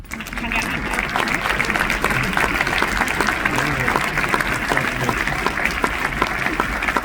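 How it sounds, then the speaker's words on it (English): Cinema audience at a Berlinale Panorama screening Q&A applauds steadily as the cast come on stage, a dense, sustained clapping that fills the whole stretch, with some voices mixed in. "we applaud until they're on stage"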